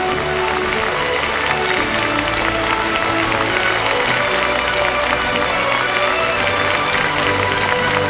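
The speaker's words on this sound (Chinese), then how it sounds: "把掌声送给我们的2号，恭喜她" At the Miss World China 2010 final, a large audience applauds the crowning of contestant number two as winner, a dense, loud, unbroken roar of clapping that fills the whole stretch.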